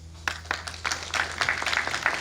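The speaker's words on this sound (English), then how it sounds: "let's give a big, big round of applause" A small crowd claps steadily, scattered individual hand claps merging into moderate applause over a low background hum.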